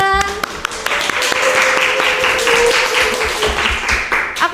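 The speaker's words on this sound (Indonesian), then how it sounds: "Mungkin bisa kasih tepuk tangan yang meriah dulu dong teman-teman" Applause from a podcast audience for a guest at a campus alumni talk, a crowd of hands clapping steadily with sharp individual claps standing out, a voice briefly audible at the start and a tonal hum running beneath.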